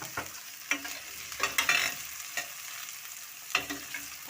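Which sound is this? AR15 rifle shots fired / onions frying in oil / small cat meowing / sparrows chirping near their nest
onions frying in oil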